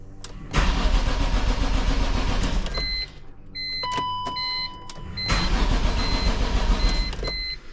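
BMW E46 M3 engine being started after a jump start, with fuel pump pulled: a loud cranking rumble, a pause with electronic chimes and beeps, then another long crank, no voices.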